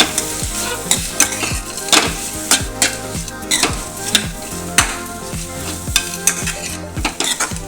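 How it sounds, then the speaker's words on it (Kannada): Ingredients for tomato soup, with ginger, fry in butter or ghee in a pot while a spoon stirs and knocks against the metal in a steady rhythm, sharp clinks repeating over a continuous close sizzle. "ಇದನ್ನು ಫ್ರೈ ಮಾಡ್ಕೊಂಡು ಬರ್ತೇನೆ ರೀ"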